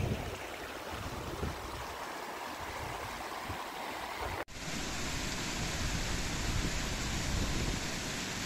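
A small mountain stream in the Tatras near Zakopane in November rushes over stones in a constant broadband wash; partway through, the sound cuts abruptly to a louder, closer, steadier flow.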